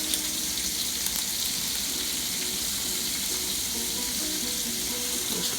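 Shrimp cook in a pan for Jamaican-style shrimp and grits, with an even, close sizzle and faint crackle running steadily throughout and no one speaking.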